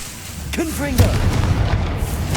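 Confringo fire blast spell in Hogwarts Legacy, a sharp booming burst right after a brief spoken voice, trailing into a sustained rumbling roar.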